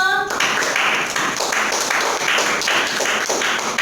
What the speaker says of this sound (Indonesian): Beri tepuk tangan yang meriah buat tim Pro